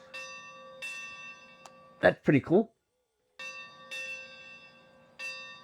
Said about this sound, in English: That's neat that it's not a regular K-37 bell.